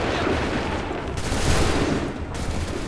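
Dense musket volley gunfire from a line of soldiers in Assassin's Creed III, a continuous rattling barrage of overlapping shots with battle noise, loud and sustained without clear gaps.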